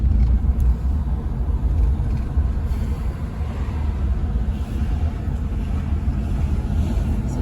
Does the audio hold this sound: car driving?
yes